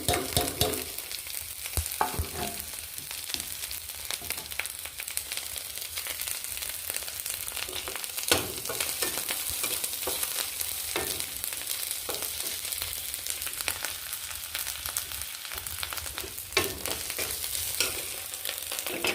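Grated ginger frying in a pan while making a bamboo shoot curry with hilsa fish head: a steady, close sizzle runs throughout, broken by occasional scraping stirs, with no voices.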